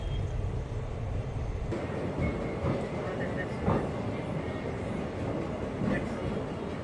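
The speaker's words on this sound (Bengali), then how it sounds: "একেবারে রাইট টাইমে শিয়ালদহ লালগোলা প্যাসেঞ্জার ছেড়ে যাচ্ছে শিয়ালদহ স্টেশন" A Sealdah–Lalgola passenger train pulls out of Sealdah station before dawn, giving a steady, fairly loud rumble with rolling rail noise throughout and faint background voices.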